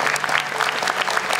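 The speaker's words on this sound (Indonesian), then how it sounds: "tepuk tangan dong" Studio audience at the Hafiz Indonesia 2020 Quran-recitation talent show claps together, a loud, dense burst of applause close to the microphone with no talk over it.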